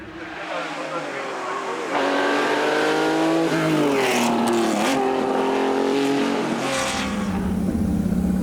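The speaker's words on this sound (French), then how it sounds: "la Porsche 3 litres groupe 4" A 3-litre Porsche Group 4 historic race car at a rally, its engine roaring loud and near, climbing and dropping through revs as it passes, with a commentator talking over it.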